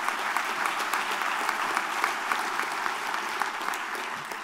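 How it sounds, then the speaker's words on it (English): Applause from an audience at a Pop Warner youth award event honoring young scholars and athletes, a fairly quiet but continuous patter of many hands clapping, heard from some distance. "So give them a round of applause for doing that."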